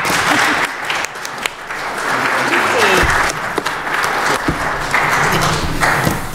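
A council meeting audience breaks into sustained, loud applause that holds steady for several seconds, dense and close, with a few murmured voices mixed in.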